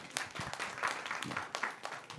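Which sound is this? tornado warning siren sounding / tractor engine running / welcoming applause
welcoming applause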